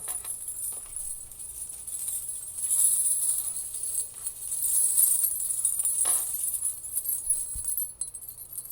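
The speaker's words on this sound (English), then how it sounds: "this jingly sound that these are making kind of reminds me a little bit of a wind chime" Bright, shimmering jingles of many small metal coins on a belly dancing wrap rustle and shake continuously, swelling and fading in waves, close by.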